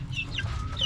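Hen and one-month-old chicks clucking in a large coop, soft overlapping chirps and clucks over a steady low background hum, near and fairly quiet.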